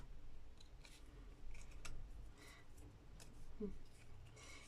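Scissors trim a laminated plastic tag in a few separate short snips and crisp clicks, close and quiet against a faint background hiss.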